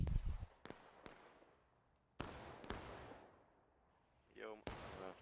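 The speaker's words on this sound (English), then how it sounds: "Oh, it's just a cannon." Several cannon shots boom from the Civil War game War of Rights, on an orchard map: sharp, loud blasts with trailing rumble, spaced irregularly, with a brief voice near the end.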